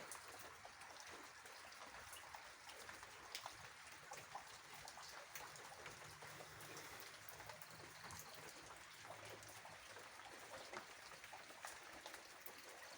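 Continuous soft hiss of rain falling, with dense patter and faint trickling, even and quiet throughout with no voices.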